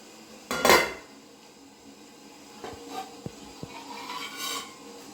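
Metal lid lifted off a steaming pot of vattalappam, a Kerala steamed coconut custard, giving a sharp clatter and scrape of metal, followed by a few lighter clinks and knocks.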